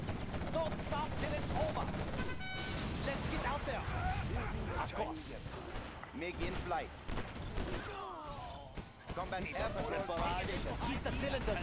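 Rapid Gatling gun fire rattles in bursts amid explosions and battle noise in the C&C Generals Zero Hour strategy game, with a voice talking over the din.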